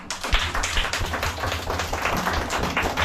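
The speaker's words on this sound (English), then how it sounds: "Good, clap for her." Young schoolchildren in a Kibera community school, pre-primary class, clapping for their teacher, a dense, continuous patter of many small hands close by with steady loudness throughout.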